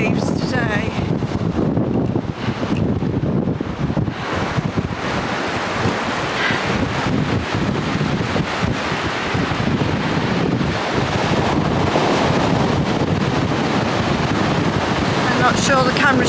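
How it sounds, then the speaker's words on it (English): Big ocean waves crash and roll onto the shore in strong wind, a dense roaring wash with wind buffeting the microphone throughout, loud and continuous with surges rising and falling. "these are big, big waves today."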